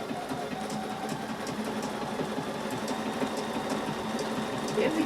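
A sewing machine stitching a decorative crab pattern on a quilt, running in a steady rapid whir with rhythmic needle clicks, close and continuous, ending with a small bump near the end.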